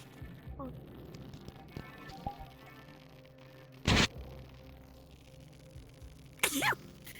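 Two loud, abrupt sneezes burst out a few seconds apart during a quiet stretch of a roleplay game session, with some faint voices and a low background murmur.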